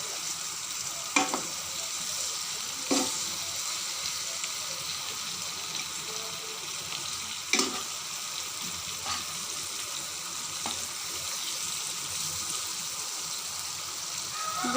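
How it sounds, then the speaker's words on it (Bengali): Round eggplant slices fry steadily in oil with a dense, even sizzle that runs throughout. A few sharp taps and scrapes from turning the slices come through close and moderately loud. "দুই পাশ দিয়ে বেগুনটাতে তেলটা ভেতরে ঢুকে, তো সেজন্য বেগুনটা ভাজাটাও সুন্দর হয়ে যায়"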